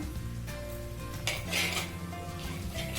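Cashews stirred into thick jaggery syrup in a pan, close scraping and clinking of a utensil against the metal over a low sizzle, with bursts of louder scraping midway.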